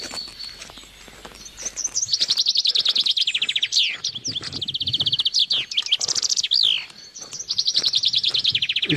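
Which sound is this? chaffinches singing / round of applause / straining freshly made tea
chaffinches singing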